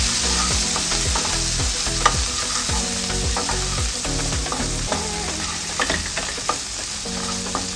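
Red chilli powder, turmeric and spices being stirred in a sizzling pan for a kala chana masala gravy: steady frying hiss with repeated rhythmic scraping strokes of the spoon, close and loud, with no talking.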